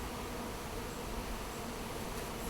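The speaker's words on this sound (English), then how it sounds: "Got our fresh package of bees here." A fresh package of honey bees gives off a steady, dense buzzing hum that stays even and fairly loud for the whole stretch, with no voices over it.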